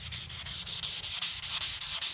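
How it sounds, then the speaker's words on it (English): Sandpaper rubs across stainless steel exhaust headers to clean off staining, a rhythmic back-and-forth scratching in quick, regular strokes, close and steady with no talk. "this got some sandpaper. You can use this to get it started"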